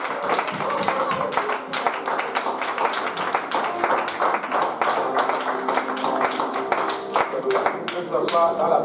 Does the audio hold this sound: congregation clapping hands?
yes